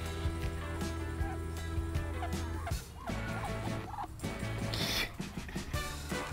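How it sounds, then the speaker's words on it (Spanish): A pair of ducks being fed, giving repeated fowl calls over a constant low background hum, with people talking nearby. "Ya, les dimos de comer a los patos. Es una pareja de patos feliz."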